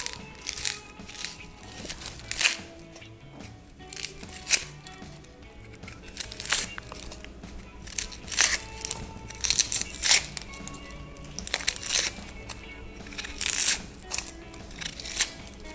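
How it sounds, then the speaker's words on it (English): An onion being peeled makes repeated close crackling tears and crinkles of dry skin in irregular bursts, with quiet pauses between. "So first thing we do is we peel the onion."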